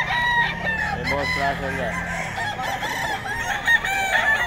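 A Boston White gamefowl rooster at a gamefarm sale crows loudly nearby in one drawn-out call, with clucks from other fowl around and someone talking over it.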